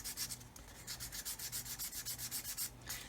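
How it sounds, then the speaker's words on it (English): A supermarket sanding stick rubs back and forth across a plastic scale-model part of a 1/32 OV-10 Bronco kit, making quiet rhythmic scratchy strokes at a steady, quick pace with no voices. "this is one of the problems with these supermarket sanding sticks"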